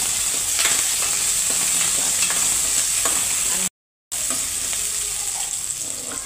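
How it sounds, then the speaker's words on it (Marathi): Green chillies fry in oil over a low flame with a loud, constant sizzle and soft stirring. The sound cuts out briefly partway through, then resumes, with no voices. "तेल टाकून आपण मिरच्या भाजून घ्यायच्यात पहिले."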